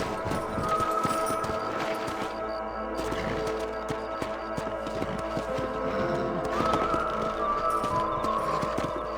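Horse hooves clop and drum at a gallop in the Western video game Red Dead Redemption, a steady run of close hoof beats with faint ambient game sound and a little background speech.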